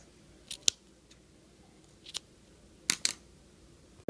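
Small scissors trimming excess thread from a popsicle stick for a doll swing, with a few crisp, close snips spaced out in quiet surroundings, including a quick double cut.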